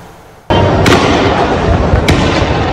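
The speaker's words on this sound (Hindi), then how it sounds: "गोलियां चल रही हैं" Gunfire at a violent street protest in Pakistan erupts abruptly after a brief quiet moment into a continuous, loud roar of blasts and crackling, with a couple of sharper cracks standing out.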